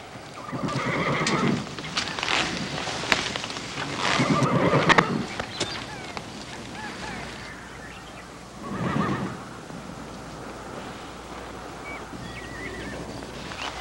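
A black horse neighs loudly several times, shrill whinnies spaced apart, with scattered hoof clops and stamping between them.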